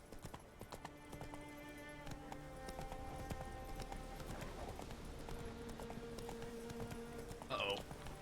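The horse Roach gallops in The Witcher 3 with a steady, rapid rhythm of hoofbeats under music and ambient game sound, ending in a brief louder whinny-like burst.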